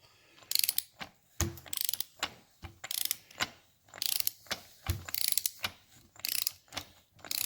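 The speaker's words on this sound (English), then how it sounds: "So after torquing the main sprocket back here, nut down" A socket wrench with a 1.5-inch socket ratchets on the left-hand-threaded main sprocket nut of a 1975 Norton Commando Mk3 transmission, up to 80 foot-pounds. Loud, close clicking comes in repeated bursts separated by short pauses.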